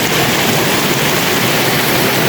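Steady loud rain falls during a boat-race festival in Pak Bang District, Laos, a dense unbroken hiss with no voices.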